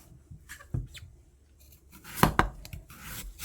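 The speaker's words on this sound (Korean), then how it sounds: "얇게 썰어서 준비해주고요" A knife slices a halved radish into thin pieces for kale kimchi, giving a few soft, close cuts against a board with a cluster of quicker strokes near the end.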